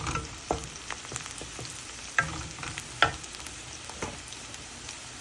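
Onions and two Bombay chillies fry in oil with a soft crackle, broken by sharp, scattered clacks of stirring at irregular intervals.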